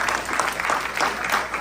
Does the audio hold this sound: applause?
yes